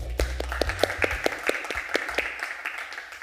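A room of people applauding after being asked to thank participants at a live-broadcast event, with distinct, fairly sparse claps at a steady pace near the listener, accompanied by a low rumble.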